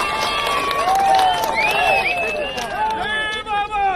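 A crowd at a TDP election campaign rally in Kuppam cheers and claps steadily through the whole stretch, a dense roar with whistles and calls on top and no clear speech standing out.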